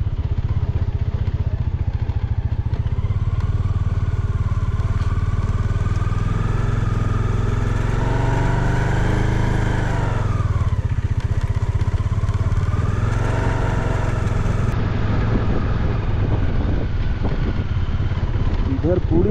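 A motorcycle creeping slowly in first gear over a frozen stretch of the Leh–Manali highway in Ladakh; the loud, steady engine drone runs close throughout, with a voice briefly audible over it.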